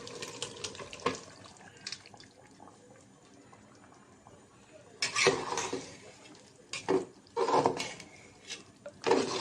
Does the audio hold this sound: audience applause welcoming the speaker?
no